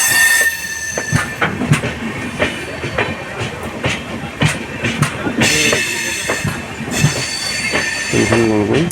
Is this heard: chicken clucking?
no